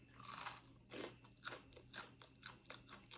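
Close, quiet crunching bites into crispy food, several crisp snaps at uneven intervals with chewing between them.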